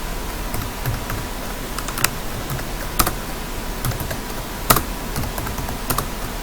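Typing on a computer keyboard, a steady run of light key clicks with several sharper, louder strikes spaced through it, heard alone and close up with no talking.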